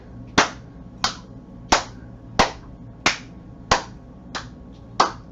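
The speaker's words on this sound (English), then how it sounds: "All right, clap below," Eight sharp, evenly spaced hand claps during a fitness toning workout, one roughly every two-thirds of a second, close and crisp against a quiet room hum.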